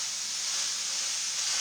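Chili ingredients fry in a pot, a steady, even sizzling hiss with no breaks, moderately quiet and heard alone.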